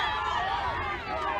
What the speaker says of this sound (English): Groans from the crowd.